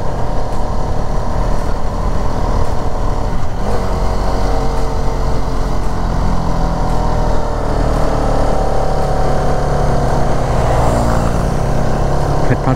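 A Hero Karizma XMR motorcycle rides along a wet, mossy hill road near Bandarban, its engine a steady, loud drone mixed with wind rush throughout.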